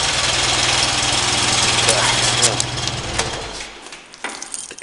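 A small Columbia lawn tractor engine runs steadily at a loud idle, then cuts out and falls quiet near the end.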